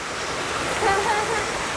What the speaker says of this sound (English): There's the creek again.